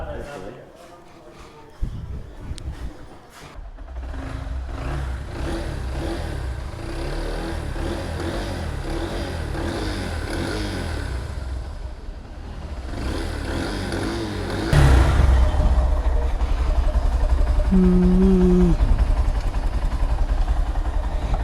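A second-hand motorcycle bought through an online marketplace idles close by with a steady engine rumble, then runs noticeably louder and rougher for the last stretch, with voices talking over it.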